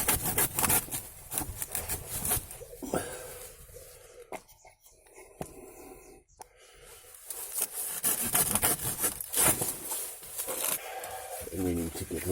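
Palm branches in a palm grove are sawn and scraped in rough rhythmic strokes, with rasping cuts coming and going and a quieter stretch midway, while a person talks at intervals.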